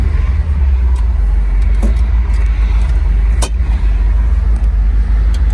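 A 1970 Plymouth Cuda with a Hemi engine and five-speed, running steadily at close range with a loud, continuous low idle rumble and a few faint clicks and jingles over it.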